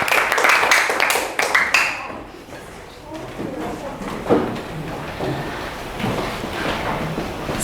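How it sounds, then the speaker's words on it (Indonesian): A brief burst of classroom clapping after a group presentation, fading quickly into murmuring voices and room chatter. "berikan tepuk tangan"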